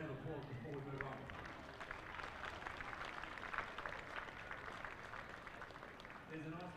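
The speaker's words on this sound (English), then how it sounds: "please give all of them a round of applause before we move on" Applause from a crowd at a state combined events athletics championship, honoring young Little Athletics competitors; steady, moderately loud clapping fills the clip, with a few voices talking briefly at the start and end.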